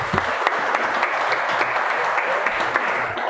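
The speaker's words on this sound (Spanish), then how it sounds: "un aplauso por favor a ustedes" Steady audience applause at an international billiards tournament, a dense continuous patter of many hands clapping at even volume throughout.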